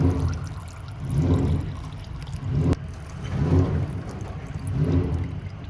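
Differential oil drains from a 2020 Ford GT350, pouring in a low, gurgling stream that swells and fades in slow waves, with one sharp click partway through.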